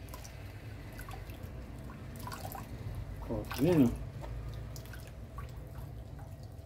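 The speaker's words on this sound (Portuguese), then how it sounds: "Não tá mais pingando muito." Liquid drips steadily from a kitchen utensil during preparation of green corn angu with dried beef, a soft wet patter under a nearby voice, with a brief louder splash near the middle.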